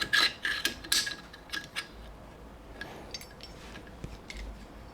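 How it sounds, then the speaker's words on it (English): A rifle charging handle slid back into place: a quick cluster of close metallic scrapes and clicks at the start, then fainter rubbing and small ticks. "Put your charging handle back."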